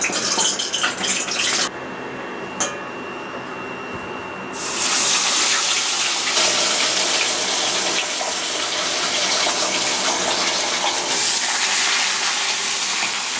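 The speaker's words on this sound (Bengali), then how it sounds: "বাটা মাছটা মা এখন ধুচ্ছে।" Bata fish being washed under a running kitchen tap, with water gushing and splashing loudly and steadily, briefly quieter near the start before the flow strengthens and continues nearby.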